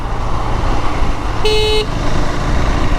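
A KTM 390 Adventure motorcycle horn gives a short, bright toot once, under half a second, over loud engine rumble and wind noise.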